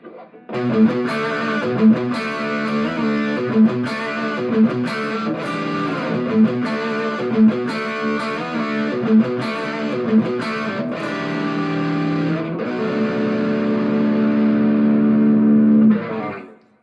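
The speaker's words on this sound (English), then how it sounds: "You can actually hear the fullness of the chords despite using high gain." Electric guitar strums full three- and four-string chords through a high-gain Joyo Dark Flame distortion pedal in a steady rhythm, thick and saturated with a slight echo, ending on a long sustained chord.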